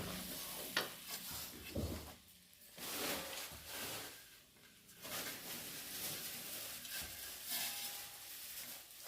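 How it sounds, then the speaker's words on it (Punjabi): Soft, close scraping and stirring of wheat flour (atta) being roasted in a pan for panjeeri, irregular strokes with a faint sizzling hiss between them. "ਆਟਾ ਪਾ ਕੇ ਤੇ ਫਿਰ ਆਪਾਂ ਇਹਨੂੰ ਭੁੰਨ ਕੇ ਬਰਾਊਨ ਕਰਨਾ ਹੈ"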